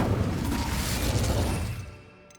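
An Incendio fire spell is cast in Hogwarts Legacy: a burst of crackling, rushing flame noise that holds for about two seconds, then fades out with a faint tonal tail at the end.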